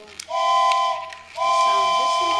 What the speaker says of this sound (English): Oh, that's a Thomas whistle.